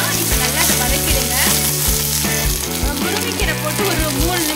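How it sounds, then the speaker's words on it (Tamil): Moringa leaves fry in ghee and oil with a loud, steady sizzle and crackle, close up, broken by regular stirring scrapes throughout. "இந்த முருங்கைக்கீரை நெய்லையும் எண்ணெயிலையும் நல்லா வதக்கணும்."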